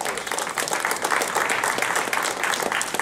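Loud audience applause at a career-focused gathering, thick and continuous clapping from many people that stays strong across the whole moment.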